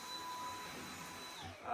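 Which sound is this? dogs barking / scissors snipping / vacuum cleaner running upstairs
vacuum cleaner running upstairs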